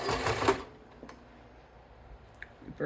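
A sewing machine runs a reverse stitch in one short, fairly loud burst, then stops, leaving near-silence broken by a few faint clicks.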